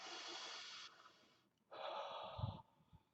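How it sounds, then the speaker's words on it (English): Breaths drawn in and let out through the nose during a meditation exercise: two long airy exhales separated by a pause, close and soft, with a brief snort-like puff near the end. "So they breathe in and breathe out, and they say now, right? They say now, right, with the exhale"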